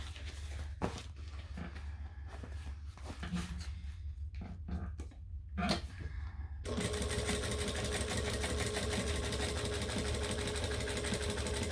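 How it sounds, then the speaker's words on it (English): A sewing machine top stitching slowly through a bag seam with foam in the allowance. Scattered clicks and brief taps come first, then a close, steady stitching drone runs to the end, alone. "I'm going slower on my top stitching than I normally do because the foam is in the seam allowance today"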